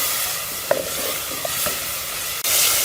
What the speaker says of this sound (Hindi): इस मसालों को हम भून लेंगे इस तरह से